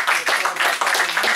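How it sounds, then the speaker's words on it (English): An audience at an evening panel discussion claps together in a short, dense burst of applause, loud and close, with no talk over it. "I would like for you all to give yourself a round of applause for this lively discussion"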